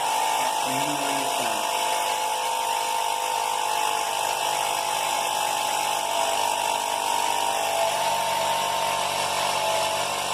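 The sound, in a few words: air pump pressurizing syringe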